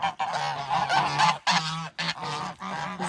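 Re-united geese honk repeatedly and loudly up close in a temporary enclosure, a series of harsh, nasal calls broken by short pauses.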